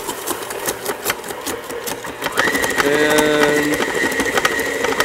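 Electric mixer churning ice cream as the mixture thickens and the motor strains, giving a steady mechanical whir with clicking rattles that grows louder and settles into a lower, labored tone partway through.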